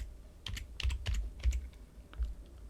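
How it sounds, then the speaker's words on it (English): Keys on a Mac keyboard are tapped in a quick, close, irregular burst of light clicks as an app name is typed, with no talking. "I'm going to type in,"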